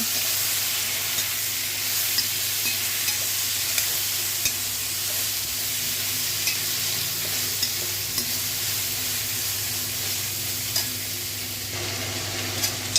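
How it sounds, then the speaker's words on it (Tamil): Tomato, onion and curry masala sauté in a pan on high heat, giving a steady loud sizzle with faint occasional stirring clicks throughout. "அடுப்பு ஹையில் வச்சு நல்லா வதக்குங்க"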